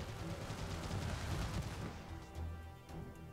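Point defense turrets firing in the strategy game Sanctuary: Shattered Sun, heard as a quiet, distant rattle of rapid shots and thuds that thins out, then returns in a couple of softer bursts.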